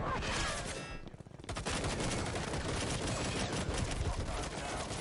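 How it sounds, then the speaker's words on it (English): Dense, continuous gunfire in a video game, rapid overlapping shots with a brief lull before the barrage resumes loudly. "Heavy gunfire exchange here."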